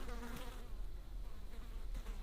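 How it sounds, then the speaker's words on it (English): Hornets and wasps buzz steadily around leaves outdoors, with a close, continuous hum and no talking. "I noticed these are what, hornets? They're all over,"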